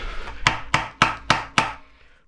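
Five sharp metallic taps from a small hammer striking a small screwdriver on the axle of a Derbi Euro 3 moped engine, evenly spaced, close and crisp, with no talking.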